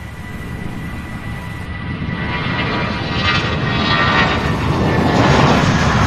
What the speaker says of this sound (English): That MD-11's coming in for landing now.